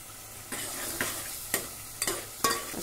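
Spices with cumin powder being stirred and roasted in a pan, a soft steady sizzle broken by about five sharp spoon scrapes at even intervals, close and fairly quiet with no voices.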